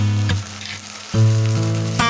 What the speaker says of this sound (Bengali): পেঁয়াজটা অলমোস্ট ভাজা ভাজা হয়ে এসেছে